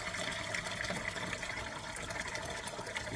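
Grape juice poured straight from a bag into a home wine-making container: a continuous, even splashing pour with no pauses.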